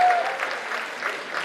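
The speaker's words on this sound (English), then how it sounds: "I'm sure if you know the applause will be higher" Applause from a university lecture audience at a distinguished alumnus lecture, a steady, moderately loud spread of clapping across the room with no talk over it.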